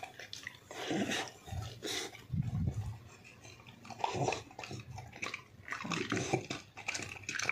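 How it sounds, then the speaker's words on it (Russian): A dog chews and laps food up close, with wet smacking and crunching bites in irregular bursts. "Все, Фима поел, собака поел."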